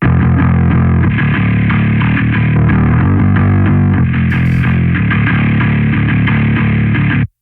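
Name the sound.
distorted bass guitar tone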